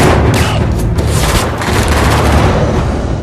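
Intense, loud battle gunfire from the action movie Olympus Has Fallen, with sustained automatic bursts and booming blasts layered into a dense, continuous wall of noise and no talking.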